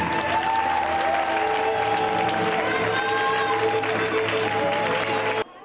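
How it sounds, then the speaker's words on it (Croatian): An audience at a children's song and dance festival in Korođ claps loudly and continuously, a dense, even wash of applause that cuts off abruptly near the end. "svi mali izvođači bili su praćeni glasnim pljeskom publike"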